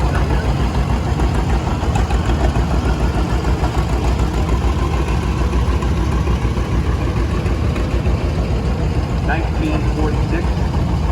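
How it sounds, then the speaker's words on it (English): John Deere Model A antique tractor engine running in a parade of power at an antique engine show, a loud, steady, close chugging drone that continues throughout, with an announcer talking over it. "John Deere Model A,"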